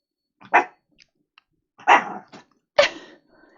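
A dog barks three times in short, loud, separate bursts, each with a little growly tail, close up and with no talk over it.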